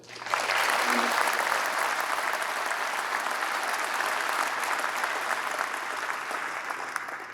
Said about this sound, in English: let's give a round of applause, another round of applause for the singing of the anthem